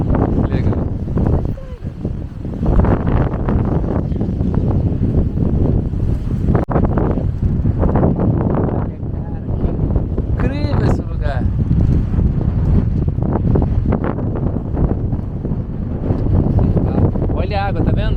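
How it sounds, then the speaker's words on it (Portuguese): Strong wind gusts across water at a lake in Mongolia, producing heavy, continuous roaring and buffeting that fills the whole stretch, loud and close, with people talking intermittently underneath. "O efeito da água com o vento."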